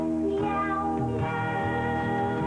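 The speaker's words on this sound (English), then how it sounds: "Meow Mix brand cat food tastes so good, cats ask for it by name" Cats meowing in harmony to a jingle melody in a Meow Mix cat food commercial, several sustained musical meows layered over music, loud and continuous.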